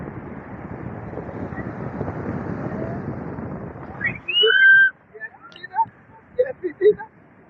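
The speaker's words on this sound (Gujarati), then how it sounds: "કેટલો દરિયો તુફાન છે અત્યારે." Stormy sea and strong wind at the coast near Koyla Dungar, heavy wind rumble buffeting the microphone for about four seconds, then it cuts out and voices follow briefly.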